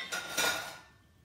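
A crock pot lid set down onto the pot, giving a quick close clatter and clink that rings briefly and fades, with no other sound around it.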